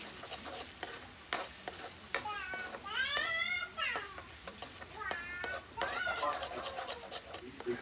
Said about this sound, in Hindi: इसमें अब हम डाल देंगे ये सारे मसाले और इसको अच्छे से मिक्स कर लेते हैं